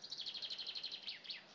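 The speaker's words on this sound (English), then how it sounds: "Oh, the birds sound nice." Small birds chirp outdoors in a quick, even run of bright repeated notes, followed by a couple of rising calls, soft and somewhat distant.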